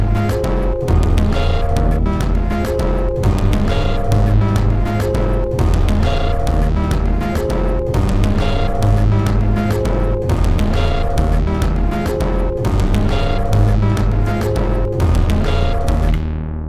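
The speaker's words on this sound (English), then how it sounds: "I've also got a bass line in there, which sounds like this." A synthesizer bass line from an Elektron Octatrack and Analog Four pulses steadily and loudly inside a dense electronic groove with driving rhythmic hits, no voices.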